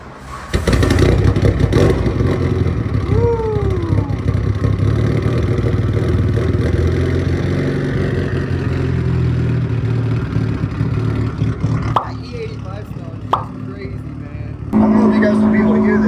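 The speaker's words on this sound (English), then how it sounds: "we're gonna get an exhaust clip since we're in an enclosed echoey area" A Mitsubishi Evo's exhaust revs inside an enclosed, echoey space, a loud sustained engine roar with a whine sweeping upward partway through and a few sharp clatters near the end, continuous and close.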